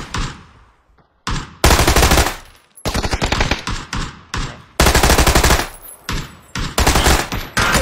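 Gunfire in a shooting video game, loud automatic bursts and single shots in rapid clusters separated by brief pauses, close and dominant with no talk.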